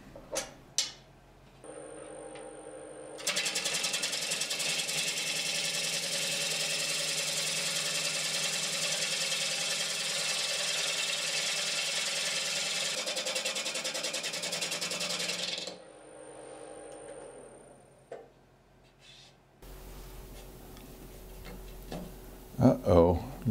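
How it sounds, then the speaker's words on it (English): Wood lathe spinning a walnut workpiece: a motor hum starts, swells to a loud steady whirring roar for about twelve seconds, then winds down, with a few clicks and knocks at the end. "And here I go, spinning it up onto the lathe."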